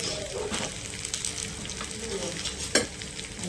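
Spices fry in a pan with masala and a little salt, giving a steady close sizzle with stirring scrapes and one sharp clink near the end, under faint background speech.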